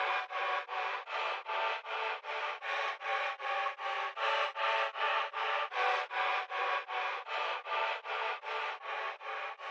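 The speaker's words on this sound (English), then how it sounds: "So we are putting Effectrix with the reverse style on it." A reversed synth pad in a fast UK drill beat, run through a Effectrix reverse effect, pulses in a steady stream of even, swelling chops about three per second, alone and moderately loud.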